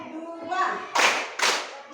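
Children clap their hands in a counted classroom rhythm, with two sharp, loud claps standing out after a stretch of quieter voices.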